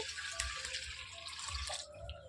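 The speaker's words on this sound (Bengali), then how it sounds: "কড়াইয়ের মধ্যে জল দিয়ে দিচ্ছি" Water poured into a kadai on a stove while steamed bhapa pitha is being prepared at home, a steady close splashing trickle with faint dripping, ending with a brief quieter tail; no talking.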